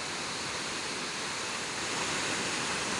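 Hinulogan Falls waterfall roars in a steady, broad, close rush of falling water, unbroken for the whole stretch and growing slightly louder toward the end.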